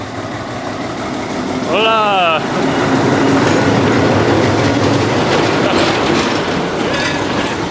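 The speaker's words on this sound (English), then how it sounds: "we got the train taking off here." A train pulls away along the tracks toward Machu Picchu, a close, loud rumble and rolling clatter with a rising whistle-like screech early on, while a person calls out a brief greeting.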